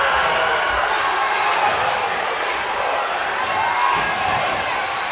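A basketball arena crowd roars and cheers after a player's one-handed dunk in a Jackson Red Devils versus Spalding Jaguars game, the loud, sustained cheering filling the whole moment with a dense wash of voices.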